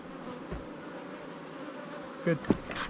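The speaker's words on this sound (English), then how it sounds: "there's a lot of bees out" Bees swarm around beehives in a mountain nuc yard, a steady soft buzzing hum filling the air, with a few closer passes and small knocks near the end.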